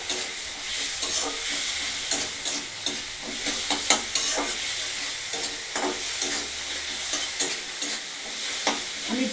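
Water is tipped into a pan of fried spice paste for a banana flower curry, setting off a loud, close sizzle and hiss with repeated scraping stirs of a spoon, no one speaking.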